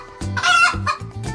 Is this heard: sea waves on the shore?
no